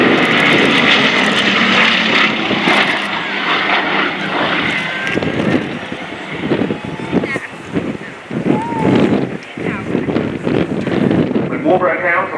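A Bristol Blenheim 1F, reconfigured from a long-nosed Blenheim 4, flies past at an airshow flypast with a loud, sustained piston-engine drone that swells and shifts, buffeted by wind noise, with a voice talking over it.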